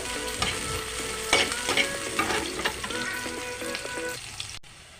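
Gourd and pointed gourd filling frying in oil with mustard, a close, bright sizzle with intermittent spatula scrapes and clicks, steady throughout before cutting off abruptly near the end.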